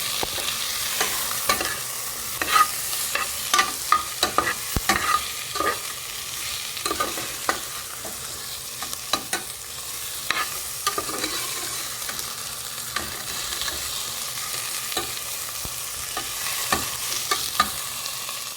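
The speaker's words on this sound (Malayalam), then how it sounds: "വഴറ്റിയെടുക്കാം." Green chillies and masala sautéing in a pan for cauliflower pulao, a steady close sizzle with frequent spatula scrapes and taps stirring the mixture throughout.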